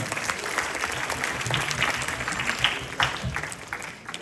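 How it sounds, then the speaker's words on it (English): An audience at a school quiz claps in a sustained round of applause for a contestant's answer, moderately loud and even, with faint voices underneath. "we should hear a round of applause for that answer as well"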